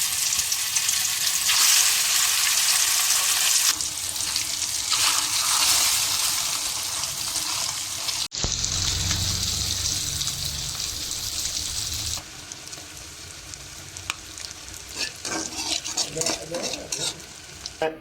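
A hook-caught goldfish fries in a pan with a loud, continuous sizzle and crackle, interrupted by stirring and shifting, close up throughout.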